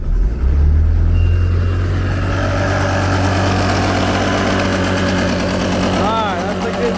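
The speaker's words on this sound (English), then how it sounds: "Let's put up the RPMs, let it run for 20 minutes." An old boat engine, abandoned for six years, runs steadily at raised RPM, a loud continuous drone with low rumble and vibration throughout, a brief rising whine near the end.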